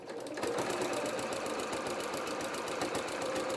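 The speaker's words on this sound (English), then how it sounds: "I'm going to stitch the top of the bias binding." Sewing machine stitching along the top of bias binding on a small coat, a fast, even mechanical whirr with rapid regular needle ticks, close and continuous for a few seconds.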